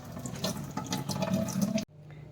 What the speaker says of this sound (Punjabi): ਜਦੋਂ ਤੁਸੀਂ ਇਹਨੂੰ ਠੰਡੇ ਪਾਣੀ 'ਚ ਰਨਿੰਗ ਵਾਟਰ 'ਚ ਇਹਨੂੰ ਧੋਣ ਲੱਗ ਜਾਂਦੇ